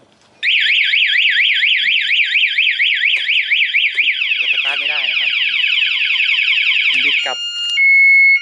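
A KSR New motorcycle's anti-theft alarm blares loud and close, cycling through a rapid warbling siren, then a fast chirping pattern and a steady tone, before ending in a sharp beep.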